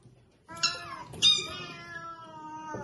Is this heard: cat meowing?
yes